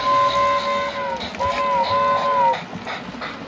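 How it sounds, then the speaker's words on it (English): A thin, steady whistle tone sounds twice over a constant hissing chuff, loud and close, from a model steam train with MPC-era steam and whistle sound. "Gotta love that MPC era sound of steam and whistle."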